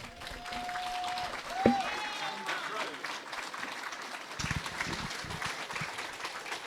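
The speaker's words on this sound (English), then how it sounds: "another round of applause for Rita Madrid" A banquet audience at a Colorado hall of fame event claps in sustained applause, a dense even patter of many hands, with a voice on a microphone over it briefly.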